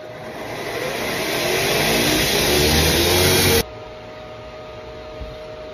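A belt grinder fitted with a 320 grit belt polishes the edge of an axe head, giving a loud, steady, rough whir that cuts off abruptly near the end and leaves only a quieter hum.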